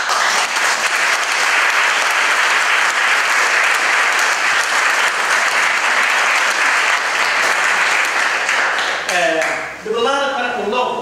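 Sustained, dense applause from a large audience at a classical music gala concert, loud and steady for about nine seconds before it thins out and a voice begins speaking near the end.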